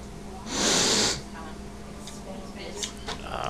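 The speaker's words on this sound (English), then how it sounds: "Going for the sniff." A single sharp, close sniff through the nose at a glass of homebrewed beer, followed by quiet room sounds and faint rustling.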